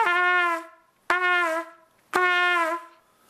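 Three held trumpet notes, each sagging downward in pitch as it fades out at the end; solo instrument, close up, with short pauses between.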